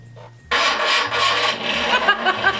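A battery-powered Batmobile RC car switched on, its sound effect system blasting a loud synthetic engine exhaust roar that starts abruptly and rumbles on continuously with rough, raspy texture.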